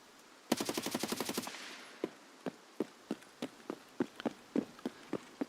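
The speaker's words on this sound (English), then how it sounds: "Shots in front of me." Gunfire in the game Escape from Tarkov: a fast automatic burst of about a dozen shots, followed by a string of separate single shots at a steady pace, fairly distant and alone without talk.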